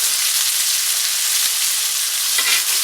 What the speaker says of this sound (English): I'm just going to flip it back to this side for just a minute to cook that garlic that's on that side and baste this butter right back over top